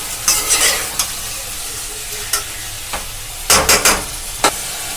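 Tomatoes cooking in a pan for homemade chowmein, with soft sizzling under sharp spoon scrapes and knocks against the pan, several clustered strikes close by and no talking.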